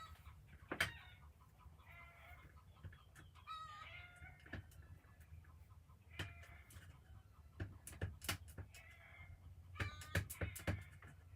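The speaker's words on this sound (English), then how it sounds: "Speaking of chickens, I can hear them in the background." Chickens clucking and calling in the background, faint and intermittent, with scattered brief sharp noises across a quiet room-tone backdrop.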